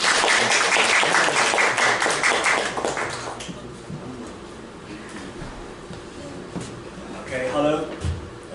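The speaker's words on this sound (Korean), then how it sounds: "더욱더 큰 박수 부탁드립니다." Audience applause at a Linfinity meetup in Seoul welcoming the CEO as final speaker, a dense clatter of clapping that fades after a few seconds into quieter room sound with scattered taps.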